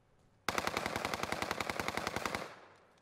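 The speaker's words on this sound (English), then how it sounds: "Is somebody shooting from the right?" Sustained automatic gunfire in a shooter video game, a rapid, steady burst of about two seconds that starts abruptly, is loud and close, and ends in a fading echo, with no voices.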